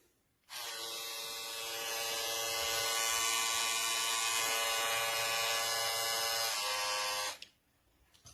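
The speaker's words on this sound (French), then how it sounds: "On déclenche la petite tondeuse." A Philips Series 8000 cordless wet and dry epilator with its small trimmer attachment runs as a steady, loud electric buzz that starts abruptly, holds for about seven seconds and then cuts off, with no voices.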